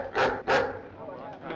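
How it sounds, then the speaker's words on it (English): A dog barks twice, loud and close, in quick succession in a 1958 thriller film scene, followed by a lower, muffled background rumble. "Don't get too near the dog."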